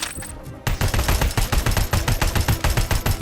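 Rapid automatic gunfire in the video game RoboCop: Rogue City, a loud, steady stream of shots with an even rhythm that starts abruptly after a brief quieter moment.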